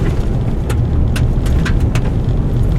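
2014 Chevrolet Silverado pickup rolling over rough gravel back roads, a loud steady tyre and road rumble with scattered crunching clicks of stones.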